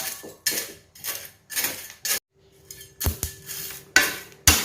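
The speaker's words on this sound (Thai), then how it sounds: "ตอนนี้เราก็คั่วเริ่มจะมีรอยไหม้แล้วนะครับ" Eggshells being dry-roasted in a pan for fertilizer, turned in repeated rattling, scraping bursts about every half second with short pauses, crisp and close, ending in sharp clinks.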